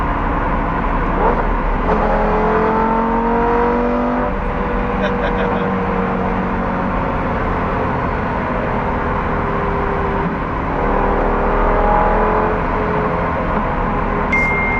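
A 2008 Lamborghini Gallardo's engine drones loudly from inside the car, its pitch sweeping as it downshifts and then climbs under acceleration, with some talk mixed in.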